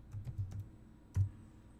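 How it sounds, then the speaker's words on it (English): A few quick keystrokes on a computer keyboard enter a stock symbol: a rapid burst of five light clicks followed by one firmer tap, close and quiet with nothing else heard. "the way you change the symbol is by typing it in"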